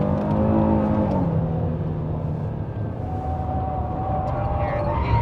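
A 2022 Harley-Davidson Street Glide ST motorcycle pulls hard around a racetrack in Arizona, its engine note loud and continuous, droning and shifting in pitch as it accelerates, with wind rush beneath.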